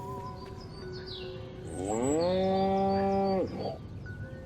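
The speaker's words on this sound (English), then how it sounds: "Again with the moo? I think these lactating bovoids are trying to fool us." In the video game Destroy All Humans, a single cow lets out a loud, drawn-out moo, rising then holding, over quiet ambient sound with faint bird chirps.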